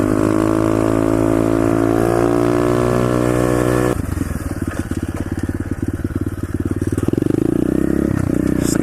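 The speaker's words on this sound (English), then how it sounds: "We're just riding around, cruising." A pit bike motorcycle's engine drones steadily up close while cruising, first a smooth sustained tone, then a rougher rapid pulsing putter as the throttle shifts, with a rising rev at the end.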